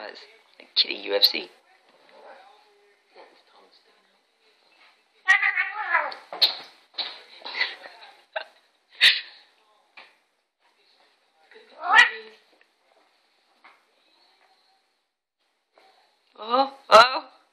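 Two house cats scuffle, yowling and growling in bursts of caterwauling and meows separated by quiet gaps, close and fairly loud.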